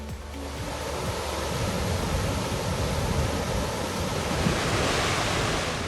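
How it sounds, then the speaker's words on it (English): Rushing water of Skógafoss waterfall in Iceland forms a dense, steady roar, a broad wash of noise heard at a distance with no voices. "The water of the river Skógafoss falls from a height of 39 feet or 12 meters over a width of 98 feet or 30 meters."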